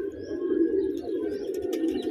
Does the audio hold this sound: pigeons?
yes